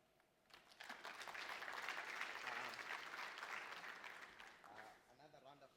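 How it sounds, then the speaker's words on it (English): A lecture hall audience applauds a professor after a plenary talk on reproducibility and data sharing, steady clapping swelling quickly and holding before fading, with a voice speaking over the final moments. "Another round of applause for Prof. Birali."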